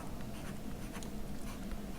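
Chalk or a marker scratches steadily across a board during a classroom lesson, a faint continuous writing scrape with no speech.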